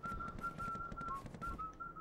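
A short melodic whistle from the Game Boy Horror in the Luigi's Mansion video game, repeated chirpy notes in a quick rhythm, clear and up front with no speech over it.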